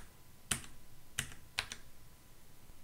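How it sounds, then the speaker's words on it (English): Arrow keys on a computer keyboard are pressed three times in quick succession, crisp separate clicks heard alone with quiet background. "You can also use the arrow keys on your keyboard."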